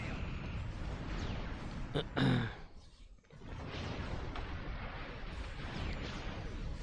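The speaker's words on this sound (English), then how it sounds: "Well, I'm getting bombarded now." Bombardment explosions in the video game Star Trek Online: a dense, continuous roar of blasts and rumbling impacts with a short louder burst and a brief lull in the middle.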